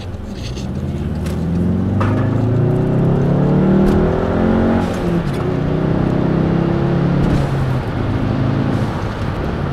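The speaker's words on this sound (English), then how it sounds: "But here's the acceleration." A 2012 Volkswagen Jetta GLI MK6 with a resonator-deleted exhaust accelerates hard, engine note climbing through rising revs with a shift around midway, loud and close, with faint rattles and clicks.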